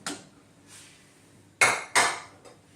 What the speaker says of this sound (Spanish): Ahora añadiremos el azúcar y seguiremos removiendo